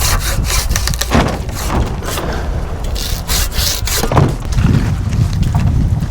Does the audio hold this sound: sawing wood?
yes